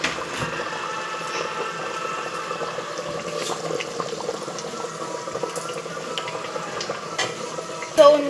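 Egg being stirred into sizzling masala in a pan, with a steady low crackle and scraping stir running throughout, closer and louder clatter near the end.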